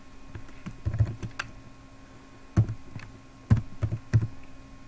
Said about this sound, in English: I'm gonna go ahead and type a strong password.